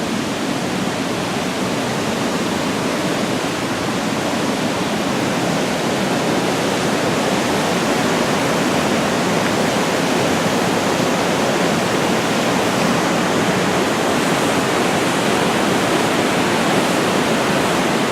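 A river rushes steadily beside a forest trail lined with cedar trees and rocky ledges, a dense, continuous broadband wash of flowing water that stays loud and even throughout with no voices.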